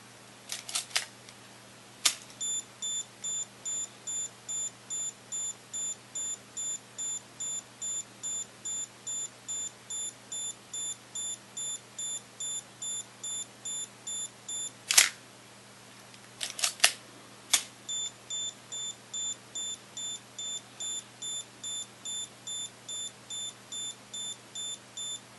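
Olympus OM10 (version II) 35mm film SLR self-timer emits a long run of steady, rapid electronic beeps, broken by sharp close mechanical shutter clicks and clacks, with no talking.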